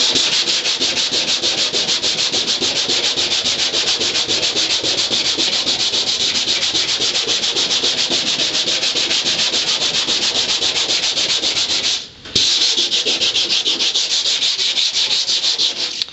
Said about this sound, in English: So I just go like this and sand it.